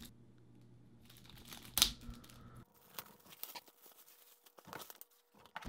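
Crinkling packaging from a MiniSuit Bluetooth keyboard box being opened, a steady rustle with a sharp tearing burst near the start, then lighter scattered crinkles and taps close by.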